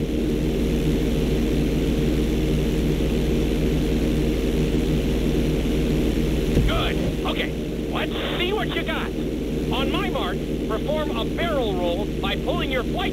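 A small airplane in the video game Grand Theft Auto 5 drones steadily with a loud, continuous engine hum throughout a flight-school run, while someone talks over it in the second half.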